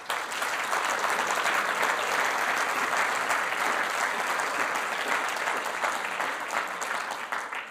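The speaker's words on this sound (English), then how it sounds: "Thank you for your claps" Dense, sustained applause from a seated audience at a talk, a steady even roar of many hands clapping for several seconds with no speech over it.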